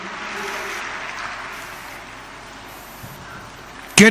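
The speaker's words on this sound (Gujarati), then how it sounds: "ખૂબ તાળીઓના નાદથી વધાવીએ પરમ પૂજ્ય આઈ શ્રી રૂપલમાં" Applause from the audience at a Shiv Katha religious gathering in Pindara, a steady broad patter of many hands clapping for about four seconds, then a sudden loud burst at the very end.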